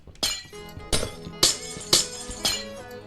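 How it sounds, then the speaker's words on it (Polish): Glass blocks placed one after another in Minecraft survival, five crisp glassy clinks at an even, roughly half-second rhythm, each ringing briefly before the next, with nothing else in the background. "Jeszcze sobie tutaj szkło wstawimy"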